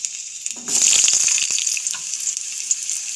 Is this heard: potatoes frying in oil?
yes